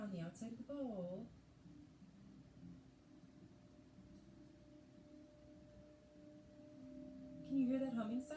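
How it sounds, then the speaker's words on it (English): Singing bowl rubbed around its rim with a mallet: a faint, steady sustained hum lasting several seconds, with a person talking briefly at the start and again at the end. "if you take the mallet and you rub it around the outside of the bowl,"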